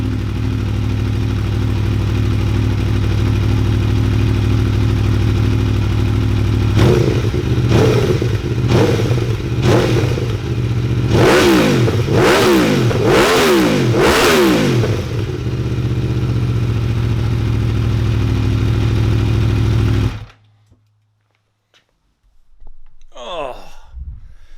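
A 2018 Aprilia Tuono Factory motorcycle on its stock exhaust idles loudly and steadily up close, then gives a run of sharp throttle revs before the engine cuts off, followed by near silence and a faint noise.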